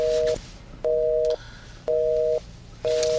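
A telephone busy tone sounds after a call cuts off, four steady beeps evenly spaced against a low background hum, with no voices.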